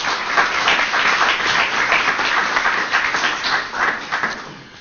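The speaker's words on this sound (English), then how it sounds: "give her a big round of applause" Steady applause from a crowd gathered for a mayor's ribbon-cutting at a senior apartment building, a dense, even wash of clapping that holds for about five seconds and thins slightly at the end.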